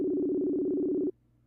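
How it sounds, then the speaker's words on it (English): A phone call rings out as a single steady electronic tone, close and clean, which holds for about a second before cutting off abruptly into quiet. "Ooh, it's ringing."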